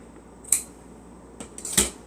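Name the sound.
cutting fabric for sewing night clothes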